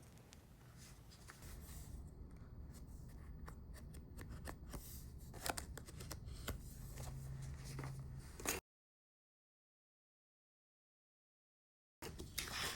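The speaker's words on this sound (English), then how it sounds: "I'm gonna cut like slightly under 1 inch strips" Scissors cut paper into narrow strips for a piano hinge book, a close, steady run of crisp snipping and paper rustle lasting several seconds. It breaks into total silence, then the cutting resumes briefly.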